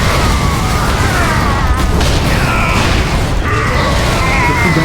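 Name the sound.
cannon fire explosions in a video game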